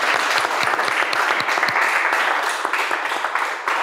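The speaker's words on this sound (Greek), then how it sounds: "Να δώσουμε ένα δυνατό χειροκρότημα στο δάσκαλό μας που είναι κορυφή" A classroom group in Chordaki, Akrotiri, Crete, claps loudly for their teacher. The applause is dense and close, with sharp individual hand claps standing out from the rapid, sustained clatter.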